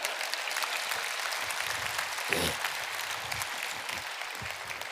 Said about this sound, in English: This is where you should clap, okay?